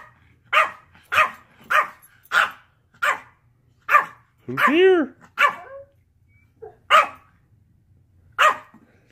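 A dog barks in a garage in sharp, regular bursts, close and loud, with one drawn-out whining howl partway through and a person speaking briefly between barks.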